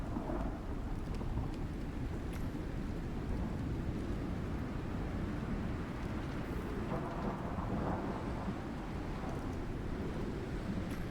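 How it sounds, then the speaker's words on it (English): Steady heavy rain with rolling thunder during a storm on the Olympus map in ARK, a continuous dense wash of downpour with low rumbling, no voices. "Man, we can hear the storms now, that's for sure."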